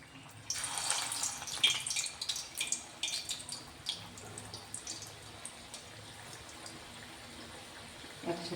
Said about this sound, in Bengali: তো দেখো বন্ধুরা তেলটা আমার ভালোভাবে গরম হয়ে গেছে, আঁচটা কমিয়ে আমি এবার এগুলো এক একে ছেড়ে দেব।